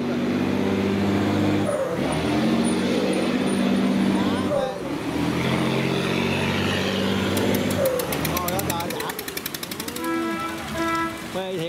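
A rice barge with a modified turbo engine passes through a sluice gate, its engine a loud, close, continuous roaring drone with rising whines and shifting pitch. Voices can be heard faintly beneath the engine.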